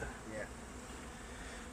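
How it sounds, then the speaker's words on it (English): Russian honey bees at a hive's one-way exit gate give off a steady, faint, low buzzing hum that continues throughout. "These are the Russian bees."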